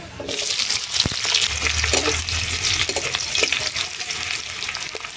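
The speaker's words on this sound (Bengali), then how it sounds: "এবারে দিয়ে দিচ্ছি পেঁয়াজ কুচি," Chopped onions hit hot oil in a wok already seasoned with bay leaf and five-spice, and they burst into a loud, close sizzle that then holds steady with light stirring noises.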